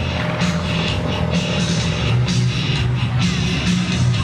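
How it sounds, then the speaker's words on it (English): An aerobatic propeller airplane at an evening airshow climbs back up into a loop. Its engine produces a steady, droning, fairly loud hum with faint crowd noise underneath. "The propeller clawing its way back up into a beautiful blue evening sky, up and over the top for another split S"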